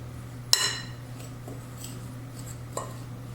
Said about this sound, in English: I'm just going to stir this around real quick. Just get that nicely mixed.